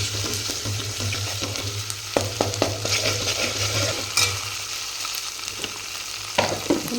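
Garlic paste fries in a pan for a mutton gravy, with a loud continuous sizzle, occasional spatula scrapes and clicks, and a low steady hum beneath.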